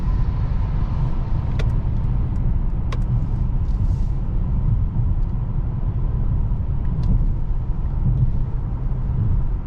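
Inside a 2021 Mercedes S-Class accelerating on the road, a steady low rumble of tyres and engine fills the cabin, with a few soft clicks and no speech.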